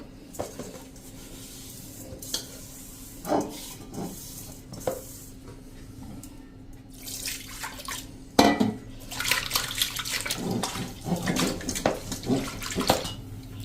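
Water splashes and trickles over a steel vessel in short bursts, then a steadier running pour with clanks of steel, close by.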